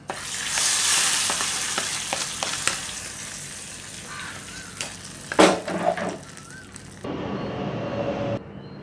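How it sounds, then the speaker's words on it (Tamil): Dried red chillies and curry leaves crackle in hot oil, then the sputtering tempering is poured into kadhi with a sharp loud hiss, followed by quieter stirring and a fading sizzle. "இப்போ இந்த தாளிப்பை நம்மளோட கடியில் கொட்டிடலாம்"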